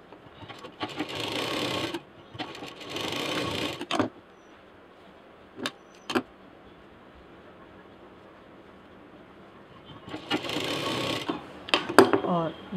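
A sewing machine stitches fabric for a zipless tiffin case in steady whirring runs, stopping and starting with a few sharp mechanical clicks between bursts, close up.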